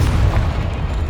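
Confringo blasting curse from Hogwarts Legacy, a deep booming explosion with a dense low rumble that fills the whole short moment, loud and close with no voices.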